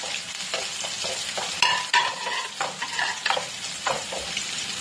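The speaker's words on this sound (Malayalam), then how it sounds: "ഇനി അപ്പൊ നമ്മള് അരിഞ്ഞു വെച്ച ബീൻസ് ചെറുതായിട്ടൊന്ന് വഴറ്റി കൊടുക്കാം" Chopped green beans sauté in a pan, with a steady close sizzle and frying crackle broken by the scrape and clatter of a spoon stirring through them.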